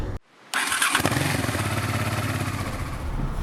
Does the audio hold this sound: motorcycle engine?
yes